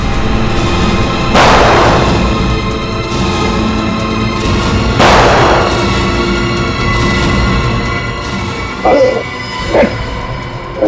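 Two heavy gunshot-like bursts ring out roughly three seconds apart during shooting practice, followed by a couple of shorter, sharper cracks near the end, all over a steady dramatic background bed.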